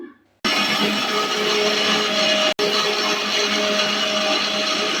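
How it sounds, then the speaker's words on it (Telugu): Mixer grinder blending cut aloe vera and leaves for soap, a loud steady whirring motor that starts abruptly, pauses for a moment mid-run and then resumes. "కలబంద నీట్గా కట్ చేసుకున్నానండి, ఇంకా మిక్సీ పట్టుకుందాము."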